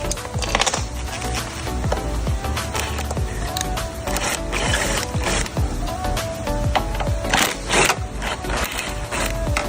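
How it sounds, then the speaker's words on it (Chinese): Power tool backs 10 mm hex screws out of a sliding van door, with dense, continuous whirring and rapid ratcheting clicks, close and loud, with no voice over it. "我可以先用电动的工具拆"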